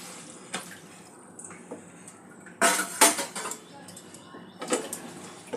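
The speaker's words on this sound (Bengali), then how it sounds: "ঝোল তৈরির জন্য পরিমাণ মতন জল দিয়ে দেবো।" Water poured into a pan to make the gravy for a fish egg curry, a short splashing pour over soft kitchen clatter of pots and utensils, near and fairly quiet.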